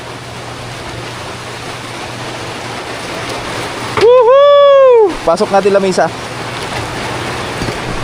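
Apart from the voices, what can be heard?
heavy rain pouring down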